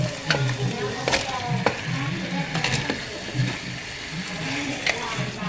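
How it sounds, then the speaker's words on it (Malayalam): Chicken with salt goes into sautéed tomatoes in a pan, sizzling and frying steadily while a spoon scrapes and stirs in irregular strokes, up close, with a voice speaking intermittently over the cooking. "ഇതിലേക്ക് കുറച്ച് ഉപ്പിട്ട് ഇട്ട് കൊടുക്കാം പിന്നെ അടുത്തത് ചിക്കൻ ഇട്ട് കൊടുക്കാം"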